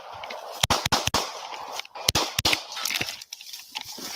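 Sharp gunshot-like bangs crack out in irregular bursts within a police investigation recording, several close-spaced pops standing out from a noisy, distorted background.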